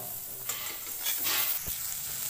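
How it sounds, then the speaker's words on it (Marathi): Tomatoes are pan-roasted in a hot pan until charred spots form, giving a short burst of close sizzling with scraping stir sounds and a soft clunk near the end, with no voices. "आता थोडंसं आपल्याला टोमॅटो परतून घ्यायचं आहे"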